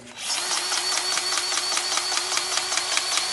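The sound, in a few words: DeWalt battery-powered grease gun pumping grease into track tensioner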